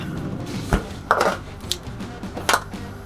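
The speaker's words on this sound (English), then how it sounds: "We're gonna go inside, slice it up." Grilled al pastor pork, cooked to medium rare, is sliced with a knife on a board indoors, giving a few sharp, separate chopping knocks and scrapes spread irregularly over a quiet background.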